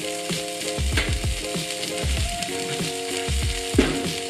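Burgers and potatoes sizzling in a frying pan, a steady close crackle with occasional clinks and stirring sounds, no talking.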